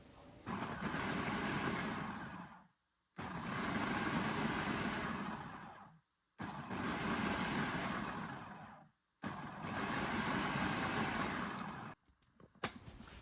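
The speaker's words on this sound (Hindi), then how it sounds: "चॉपर में डालने के बाद इसको रुक रुक के चलाना है, मुसलसल नहीं चलाना" An electric food chopper pulses on and off four times while chopping chutney ingredients, each burst a loud steady whirring of a few seconds separated by short pauses, with a faint click at the end.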